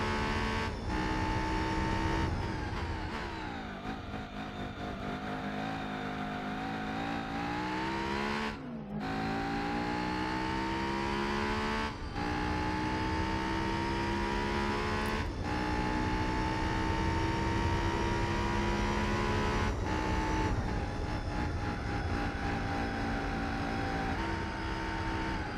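Race cars in Gran Turismo 4 at Tsukuba, including a Ford Ka, a Supra and an Evo, whine continuously, with engine tones rising through the gears and dropping at brief shifts, loud and unbroken.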